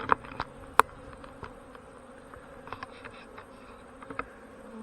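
Honey bees buzz steadily close by during a cleansing flight, with sharp clicks and taps scattered over the hum.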